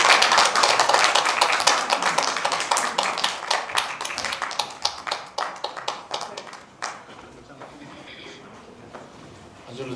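Crowd applause at a community town-hall meeting for the local community center staff, steady dense clapping for about seven seconds that tapers off to a few scattered claps, with some talk underneath.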